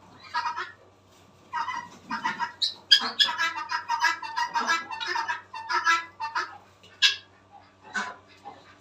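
Ducks and chickens kept in a garden call in a run of short, choppy bursts, some squawking and clucking close by, with brief quiet gaps between calls.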